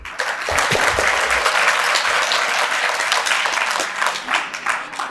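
A crowd claps steadily at an annual celebration and foster-family gathering in Meerut, the dense, even applause filling the space loud and continuous throughout.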